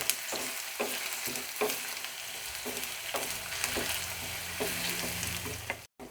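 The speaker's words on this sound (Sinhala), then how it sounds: "මේ තෙල් එකෙන් තමයි මේ අලයක තම්බ ගන්නෙ." Potato pieces cooking in hot oil in a pan, a continuous loud sizzle broken by repeated stirring scrapes and clatters at a steady rhythm, close up with no talking.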